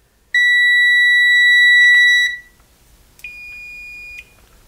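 A Harbor Freight BOLTR fork meter's continuity checker beeps twice: a loud, high, steady tone lasting about two seconds, then a shorter, slightly lower beep after a pause.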